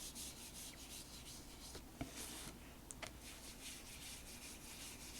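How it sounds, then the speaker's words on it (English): Soft tool brushing excess pan pastel off artwork, a faint, close scratchy rubbing with a few brief louder strokes, quiet and without speech. "I just sort of brush off some of that excess"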